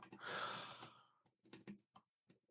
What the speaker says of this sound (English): My typing has become so slow.